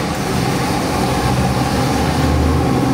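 LS 441ci 700hp Borla stack-injected crate engine running on a dyno, a loud, dense, continuous low rumble with a rough, unbroken roar and no pauses.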